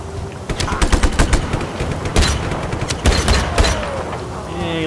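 Rapid gunfire in Just Cause 3, loud clusters of automatic shots cracking in quick succession with brief gaps, close and forceful, a faint voice now and then beneath the shooting.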